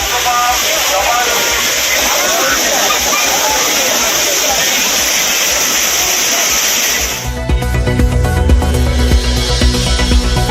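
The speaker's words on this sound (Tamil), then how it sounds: "பழைய குற்றாலம் தவிர்த்து மற்ற அருவிகளில் உற்சாக குளியல்" Courtallam waterfalls pour in a loud, continuous roaring rush of water where tourists bathe, steady and close, then the scene cuts abruptly to different noisier background sound near the end.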